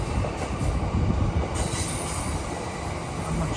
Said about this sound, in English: this orange and red train